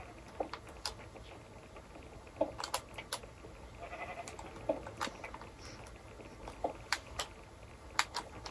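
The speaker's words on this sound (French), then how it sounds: "Oh, le mouton s'est envolé." Faint sheep bleats in the Minecraft video game sound amid scattered light clicks and tapping, with a soft background hiss.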